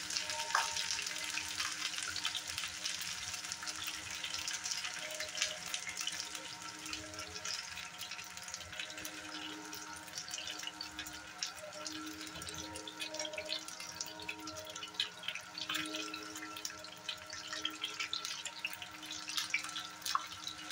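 Bottle gourd pieces boiling in a covered pot, a steady low bubbling and simmering hiss with soft drips that continue evenly for about twenty seconds, close by and fairly quiet, with no talking.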